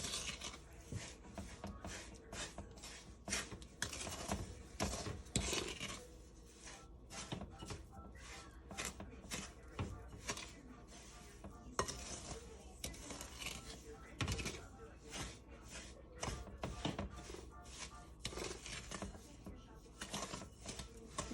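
Cranberry pie ingredients with sugar are mixed until soft, making a faint, continuous rasping, whirring scrape with a mechanical rhythm. A voice comes through at times.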